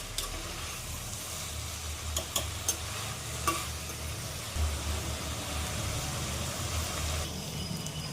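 Tomatoes soften in a pan for onion chutney, giving a soft continuous sizzle with a few sharp clicks and light scrapes, under a low rumbling hum and no talk.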